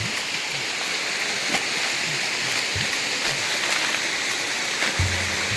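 Steady rushing water from a forest waterfall at Bathwadigala, Sri Lanka, fills the whole stretch, a broad continuous roar of falling water with no other sounds standing out.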